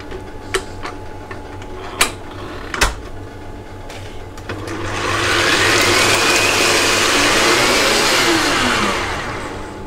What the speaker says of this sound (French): maintenant, je vais monter mes blancs d'œufs en neige